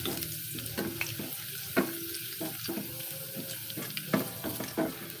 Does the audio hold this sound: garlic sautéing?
yes